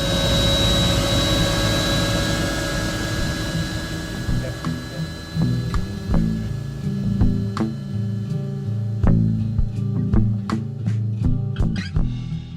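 Loud, steady engine roar fills a helicopter cabin, a constant drone with whining tones and scattered clicks and rattles, no voices.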